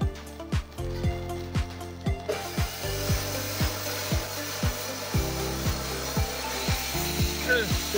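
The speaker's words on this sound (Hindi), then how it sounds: "200 एम्पीयर का वेल्डिंग प्लांट है, रेडी हो गया।" A 200 amp ASEA welding plant, repaired after control card and IGBT faults, welds at reduced current with a steady crackling buzz broken by regular rhythmic pulses over a low electrical hum.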